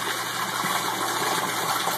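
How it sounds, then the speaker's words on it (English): Water gushing and draining quickly through a 1.5-inch pipe in an aquaponics greenhouse, a steady rushing, gurgling flow at close range with no pause. "I want that water to drain out of there nice and quick"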